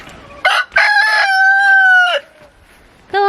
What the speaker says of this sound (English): Oh, the cockerel has escaped.